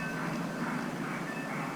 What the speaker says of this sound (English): you can hear the train over there in the background